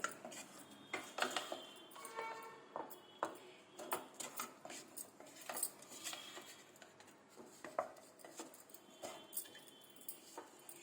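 A spoon stirring kesari sweet in a pan, a run of quiet scraping and clinking strokes repeated at an uneven pace.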